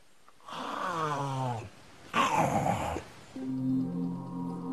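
A voice imitates a giant snake's snoring in three long, rasping groans, each a drawn-out throaty rattle separated by short pauses, close and fairly loud.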